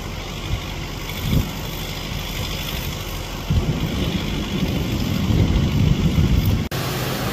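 A tractor hitched to a trolley that has slipped off the track strains on a rough road in the Dhorpatan reserve. The diesel engine rumbles steadily close by and grows louder and harsher as it works harder, with no speech.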